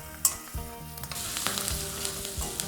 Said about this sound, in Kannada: ಮೆಣಸಿನ್ಕಾಯಿ ಎಲ್ಲ ಹಾಕಿದ್ಮೇಲೆ ಒಂದು ಸಲ ಬಾಡಿಸ್ಕೊಂಬಿಡೋಣ